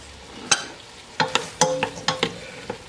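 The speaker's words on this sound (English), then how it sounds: "we're just going to let the potatoes soften a little and absorb some of the wonderful bacon and butter flavors and onion" Potatoes cook in a pot with bacon, butter and onion for clam chowder, a soft sizzle under several scraping, clinking stirs of a spoon against the pot.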